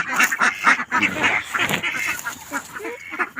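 A flock of ducks kept for slaughter quack loudly and continuously at close range, many overlapping calls forming a dense, busy chorus with no speech.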